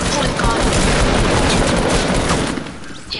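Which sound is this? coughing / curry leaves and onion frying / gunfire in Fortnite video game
gunfire in Fortnite video game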